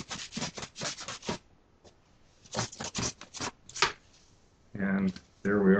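Tape being pulled and wrapped around stonewool pipe insulation at a coupling, heard as close crackly rubbing bursts in two clusters, followed by louder ripping pulls near the end.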